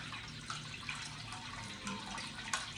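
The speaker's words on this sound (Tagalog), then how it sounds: "Ito, maglalagay tayo ng tubig." Water pours steadily into a cooking pot, a faint continuous splashing with a few small drips and no voices.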